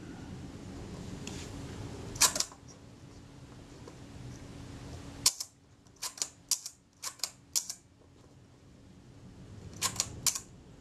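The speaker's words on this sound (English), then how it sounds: "go away and test that shutter" A camera shutter, tested after adjustment, fires a series of sharp mechanical clicks: a pair near the start, a quick run of five or six in the middle, then two more at the end, all close and alone over faint background hiss.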